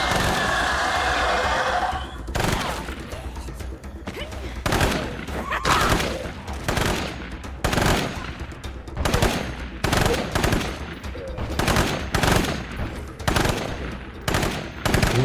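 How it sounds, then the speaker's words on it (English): Repeated bursts of gunfire against an armored zombie in the video game State of Decay 2, loud rapid volleys at a steady rhythm, after a brief opening of engine-like noise. "I honestly got back to shooting your armored zombie right now, but hey, you shot him enough"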